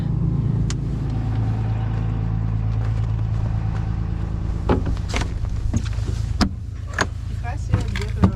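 A car engine idles steadily with a low rumble in winter cold on a Wyoming mountain pass during a snowstorm, while clicks and knocks sound inside the vehicle as the defroster runs.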